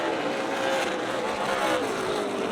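Race cars roaring around Rockford Speedway in an ARCA Midwest Tour event, a steady dense engine drone at close range with no break, cars battling side by side down the backstretch.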